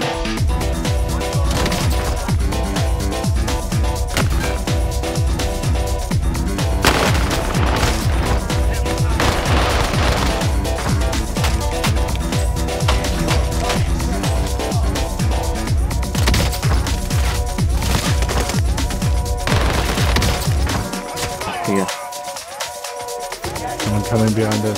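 Rapid, dense gunfire from Call of Duty Warzone on Rebirth Island, with overlapping bursts and automatic fire rattling loudly almost nonstop. Players' voices talk over the shooting throughout.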